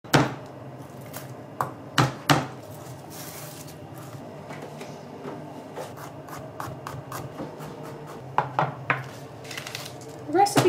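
Garlic cloves bashed and sliced with a knife on a board while making kung pao chicken, a series of sharp knocks and taps at irregular intervals, close and fairly quiet.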